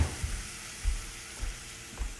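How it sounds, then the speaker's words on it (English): Breakfast sausage sizzles steadily in a frying pan with a faint, continuous crackle, broken by a few soft low thumps. "See that sizzle?"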